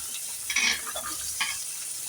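Chopped carrots for a paneer pulao sizzling in a pan, with a couple of quick stirring scrapes over a steady frying hiss, close and fairly soft.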